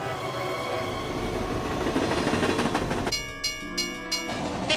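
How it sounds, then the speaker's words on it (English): A passing train rumbles and clacks steadily close by, then its horn sounds in several sustained blasts, loud and alone without voices. "I hear a train whistle over there"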